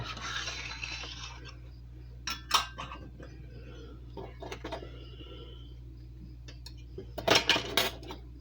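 Metal canning jar rings and lids handled in a home kitchen, with scattered light clinks and scrapes and a cluster of sharper metallic clatters near the end, close by against a low steady hum.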